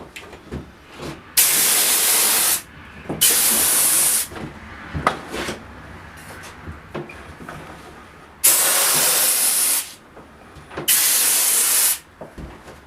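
Spray gun with a vertical pattern, run on about 100 psi of air, lays finish onto a wooden picture frame in four loud, steady hissing bursts of one to two seconds each, with quiet handling sounds between them.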